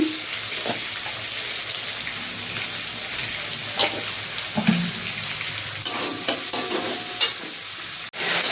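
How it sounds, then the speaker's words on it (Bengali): Onions sizzle and fry in hot oil with a sprinkle of salt, a steady close crackle broken by occasional stirring scrapes and clinks of a spoon in the pan. "পেঁয়াজ এই যে ভাজা হয়ে গেছে"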